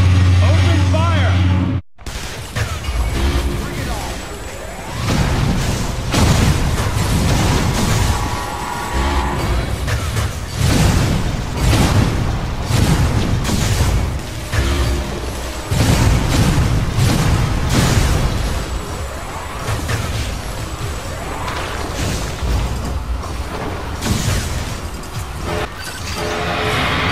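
Metroid: Other M combat, with dense, continuous gunfire and heavy explosions booming throughout, loud and chaotic, after a brief quiet gap at the start.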